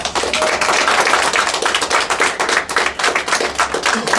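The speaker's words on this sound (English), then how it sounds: "if we can give them a big round of applause" Audience applause at a grassroots coalition press conference: dense, steady clapping from a crowd that fills the whole stretch at a loud, even level with no talk over it.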